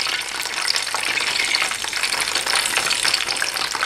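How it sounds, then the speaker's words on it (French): Chicken spring rolls (nems) frying in oil in a pan rather than a deep fryer, a dense, steady crackling sizzle close up with no talking. "je préfère les faire cuire dans une poêle plutôt que dans une friteuse pour pouvoir maîtriser la cuisson"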